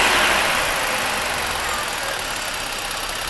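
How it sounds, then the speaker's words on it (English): Car engine running at a steady idle just after starting, an even mechanical hum with a light knocking texture that stays constant and close. "let's start the engine and see if everything works"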